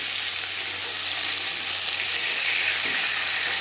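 Pieces of silver carp frying in a pan of oil give a steady, close, even hiss and sizzle that holds without break for a few seconds, with a faint low hum underneath and no voices.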